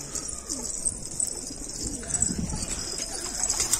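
Pigeons coo softly in a loft full of colored fancy birds, low rolling calls repeating over a steady hiss of ambient noise, with faint wing rustles now and then.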